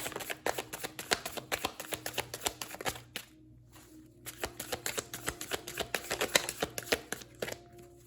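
Tarot cards shuffled by hand in a steady run of crisp riffling slaps and flutters, pausing for a moment before the brisk papery shuffling picks up again.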